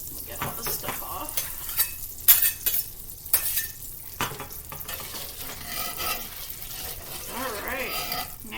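Butter and oil sizzle on a griddle for home fries while a spatula scrapes and taps across the hot surface in irregular close strokes, with a faint voice in the background.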